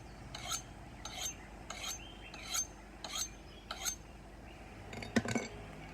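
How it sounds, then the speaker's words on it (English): A hand file rasps along an axe blade in six even, separate strokes about two-thirds of a second apart, close and moderately loud, ending in a brief clatter of metal. "So that is sharpening the axe."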